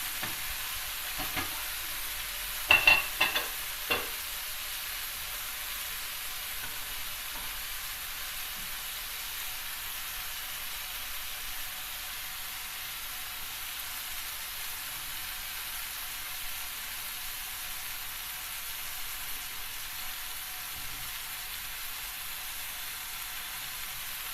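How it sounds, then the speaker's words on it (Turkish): Beef entrecote sears in a hot pan, a continuous soft sizzling hiss throughout, with a few brief utensil clinks near the beginning. "Ben etlerimin hepsini güzelce mühürledim"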